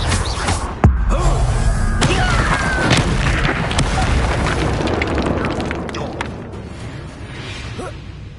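A Confringo spell blasts rubble in Hogwarts Legacy: one sharp, loud bang, then a rolling rumble of debris with swishing magical whooshes and crackles fading over several seconds.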